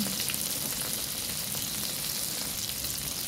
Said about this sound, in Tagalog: Igisa lang natin sa litong bawang